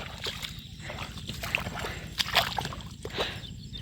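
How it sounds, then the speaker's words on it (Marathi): Feet wade through knee-deep floodwater on a farm field, with repeated close sloshing and splashing steps and gurgling water, moderately loud, with no voices. "हे बघा हे असं पाण्यातनं जावं लागतंय"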